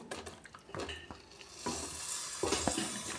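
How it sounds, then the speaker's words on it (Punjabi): Chopped lemons for a sweet-and-sour lemon pickle tumble into a hot pan with spices, setting off a rising sizzle and some stirring scrapes close by. "ਹੁਣ ਆਪਾਂ ਪਾ ਦਾਂਗੇ ਇਹਦੇ ਵਿੱਚ ਕੱਟੇ ਹੋਏ ਸਾਰੇ ਨਿੰਬੂ"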